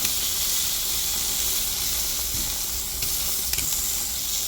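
T-bone steak sizzles steadily on a messy BBQ grill, a continuous hissing fry with faint clinks and a brief louder crackle as the meat is flipped.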